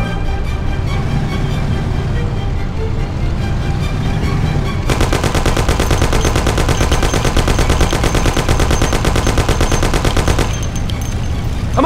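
Thompson submachine gun in the Mafia video game, firing one long, rapid, sustained automatic burst of several seconds over engine and road rumble, with no speech.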